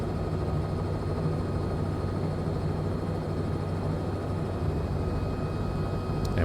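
Simulated Robinson R66 helicopter in Microsoft Flight Simulator 2020 with an immersive audio pack, a steady, moderate turbine whine and rotor drone over a helipad, continuous and unchanging with no voices.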